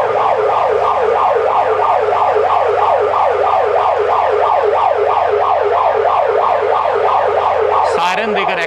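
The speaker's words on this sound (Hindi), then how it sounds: "सायरन देकर एक्टिव कर रही है," A police vehicle's siren wails loud and close in rapid rising-and-falling cycles, continuous for several seconds before cutting off abruptly near the end.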